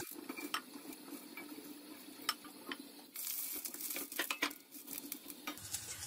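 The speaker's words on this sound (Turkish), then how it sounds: "Bunun yarısını tencereye koyuyorum." Chopped peppers, two kilograms' worth, are tipped into a pot with olive oil, making soft clattering, stirring and a faint sizzle, with occasional metallic clinks of utensils against the pot at close range.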